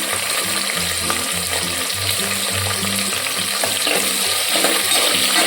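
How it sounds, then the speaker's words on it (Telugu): Sliced onions frying in hot oil for Guntur-style spicy gongura mutton, a steady crackling sizzle with a stirring spoon scraping and knocking the pan at close range, no voices. "ఆయిల్ వేడిన తర్వాత ఆనియన్స్ వేసుకుందామండి."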